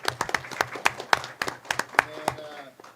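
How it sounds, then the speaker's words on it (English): A small audience at a school district board meeting claps for the girls' volleyball team, a sparse scattering of distinct nearby claps over a quiet room, fading out after a few seconds. "And so that's another round of applause for our girls."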